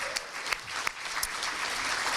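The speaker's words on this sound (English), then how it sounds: "Let's give a big round of applause to WIC Companies," An audience at a chamber of commerce awards evening applauding a sponsor, WIC Companies: steady, fairly quiet clapping from a sizable crowd with a few sharper individual claps standing out.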